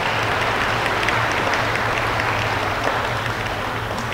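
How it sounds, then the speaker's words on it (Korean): A Korean Presbyterian congregation at a church festival worship service applauds the children's department in a dense, even wash of clapping that stays loud throughout over a low hum. "예, 우리 큰 박수로 환영하겠습니다"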